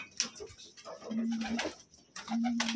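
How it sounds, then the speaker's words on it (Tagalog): Racing pigeons in a loft give soft, close, low coos in two drawn-out phrases, with rustling and faint clicks between them. "Ayan mga kalapatids."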